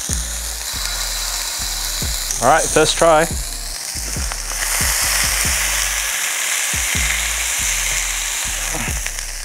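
A smashed burger patty sizzles loudly on an oiled hotplate, a steady frying hiss broken by repeated low thuds and scrapes of pressing. Someone speaks briefly over it.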